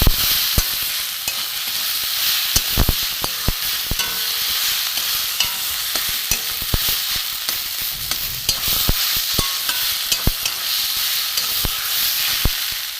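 Spices fry in a pan with chili, cumin and coriander powder while being stirred for a katla fish ball dish. A steady hiss and sizzle runs under frequent sharp spoon clicks against the pan, close and fairly loud, with no speech.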